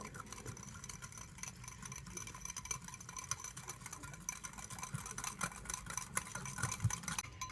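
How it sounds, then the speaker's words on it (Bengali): A blender whisks sour yogurt mixed with a little sugar and salt, giving a steady, moderately loud whir with faint rattling and ticking throughout, running continuously without pauses. "আর এবার একটা ব্লেন্ডার দিয়ে তো সমস্ত কিছু ভালো করে ফেটিয়ে নেব।"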